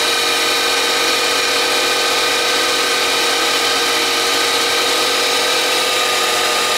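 A milling machine motor runs at top speed with an end mill fitted, giving a loud, steady, high-pitched whine with no pauses.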